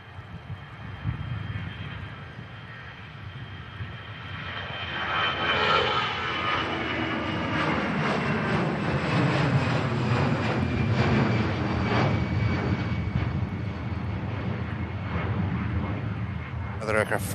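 An EasyJet airliner rotates and climbs away at Manchester Airport in murky, cloudy weather, its engine roar swelling from a distant rumble into a loud, sustained roar that holds steady to the end.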